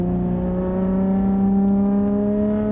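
A 2020 Lotus Evora GT with a modified exhaust sends out a loud, close, droning engine note with strong steady harmonics, held at a fairly even pitch throughout the stretch with no talking.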